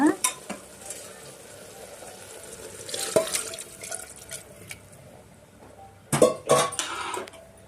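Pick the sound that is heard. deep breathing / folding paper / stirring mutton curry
stirring mutton curry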